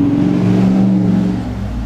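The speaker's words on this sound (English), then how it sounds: "Just rev your truck as you pass my house" A neighbor's truck revs its engine while driving past a house, a loud, close, steady engine roar that eases off slightly toward the end.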